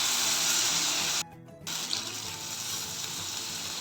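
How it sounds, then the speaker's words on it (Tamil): Hot water, about two cups, poured into a cooking pan of semolina upma with tamarind water, over a steady sizzle and watery rush, briefly cut off for a moment before resuming. "இது வந்து ஹாட் வாட்டர் இது வந்து ஒரு டூ கப் ஊற்றிக்கலாம்"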